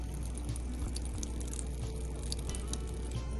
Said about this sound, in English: About 1 inch of water flows through the bottom of each pipe before returning to the reservoir.